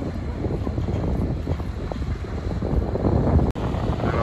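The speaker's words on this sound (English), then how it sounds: "our lifeboat looks like it's either going out training or going out for some action" A lifeboat motors out to sea with a steady engine rumble, wind gusting across the microphone, and a brief sharp knock near the end.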